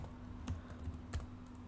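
Faint typing on a computer keyboard, a few soft key clicks spaced apart over a quiet room hum.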